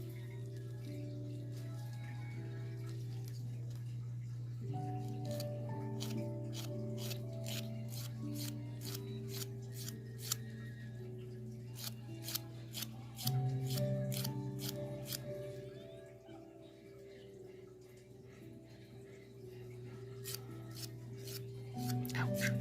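Nail file rasping on a fingernail coated with dip powder, a faint, close, quick back-and-forth scratching in a steady series of short strokes over a low hum, with no talk.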